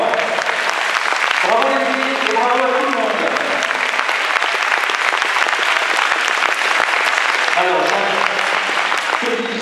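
Loud, steady applause from an audience fills the space throughout, with a person's voice speaking over the clapping at moments.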